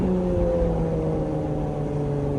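A hybrid car's gasoline engine running under wide open throttle, a steady, loud droning hum with sustained engine tones and no pauses through the short stretch.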